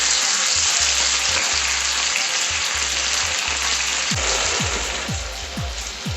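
Beef sauce sizzles and spits steadily in a hot pan, a dense close frying crackle with a few soft stirring or scraping sounds toward the end, no voices.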